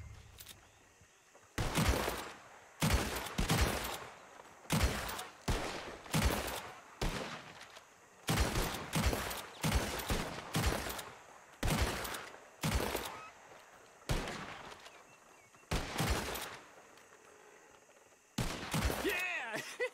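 Rifle gunfire in the video game Red Dead Redemption 2, a long run of sharp, loud shots fired one by one or in quick pairs at irregular intervals, each with a short ringing tail.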